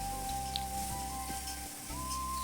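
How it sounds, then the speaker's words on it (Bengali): Chopped onions fry in oil in a home kitchen, a soft steady sizzle heard faintly beneath a constant background hum with a few brief tonal sounds. "তারপর তেলের উপরে পেঁয়াজটাকে ভালো করে ভেজে তারপর আমি টমেটো আর কাঁচা লঙ্কাগুলো দিয়ে দিয়েছি"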